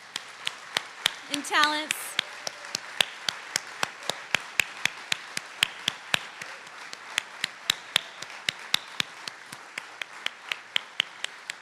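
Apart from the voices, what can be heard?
memorial audience applauding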